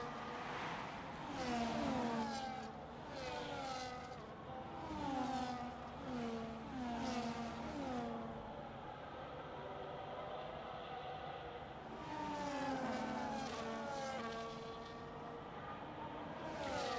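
F1 cars in an F1 racing game at Saudi Arabia, engines screaming through repeated upshifts in rising sweeps, several cars passing one after another, fairly faint and continuous.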